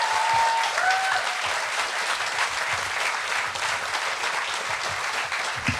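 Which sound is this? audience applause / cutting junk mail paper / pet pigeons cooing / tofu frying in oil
audience applause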